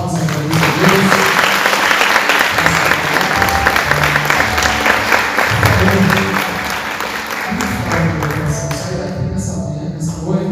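A church congregation claps together in sustained, dense applause that fills the whole stretch, loud and steady with a slight drop toward the end.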